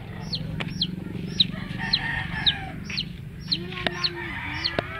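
Farmyard rooster, one of a pair of cocks over two years old, crowing several times near and fairly loud over clucking hens and a low background hum.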